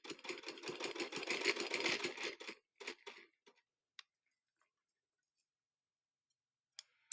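A sewing machine stitching thick trouser fabric runs in a fast close whir for about two and a half seconds, then stops with a few short bursts, followed by near silence and scattered faint clicks.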